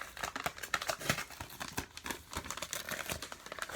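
Manila envelope holding a Blu-ray steelbook being handled close up: rapid crinkly paper rustles, crisp crackles and tearing-like scrapes in quick irregular bursts, no talk.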